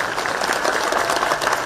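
An audience claps at a political rally held for Himachal Day. The applause is steady and fairly loud throughout the short stretch, a dense patter of many hands with no speech on top.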